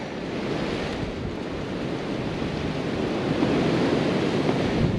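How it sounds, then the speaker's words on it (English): Strong wind buffets the microphone on an exposed, cold winter countryside walk near Hook Norton, a continuous loud roaring rush with no talk. "Incredibly exposed and windy out here, and rather cold."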